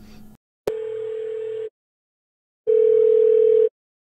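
After a sharp click, two separate one-second telephone tones sound on a phone line with a pause between them, clean and close, the second louder than the first.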